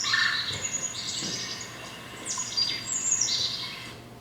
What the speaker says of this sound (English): that was the sound that I can always pick out if it's a red-bellied woodpecker when it does that trill